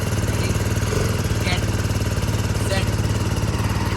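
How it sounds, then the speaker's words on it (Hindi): A motorcycle engine runs at a steady idle close up, with a rapid, even low-pitched thumping pulse throughout and faint knocks on top. "अब टाइम आता है मेरी बाइक की साउंड सुनने का"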